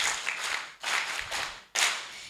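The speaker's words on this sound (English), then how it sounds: "Let's give a big round of applause." Three bursts of audience applause at an agricultural extension week event, each a dense wash of clapping with short pauses between, the last starting sharply.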